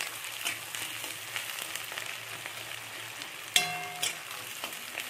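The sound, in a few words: onion frying in oil with bay leaf, dry chilli, whole garam masala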